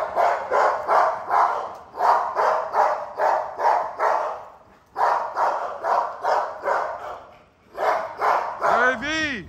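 Several XL pitbull dogs bark in rapid, repeated bursts during a pack feeding of two litters, loud and close, with short pauses between volleys and a brief high-pitched yip near the end; people talk in the background.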